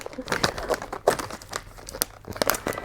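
Crinkly, tightly sealed plastic and tape wrapping on a book parcel crackles and tears in short, uneven bursts, close by, with a few soft scrapes between.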